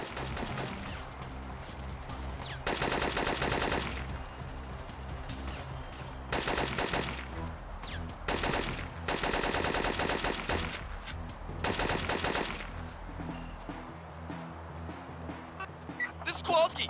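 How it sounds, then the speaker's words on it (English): Gunfire in the video game Syphon Filter 2 at a Colorado mountain air base, several loud bursts of automatic fire separated by short pauses, mixed with game sound. "This is Kowalski. We're under fire."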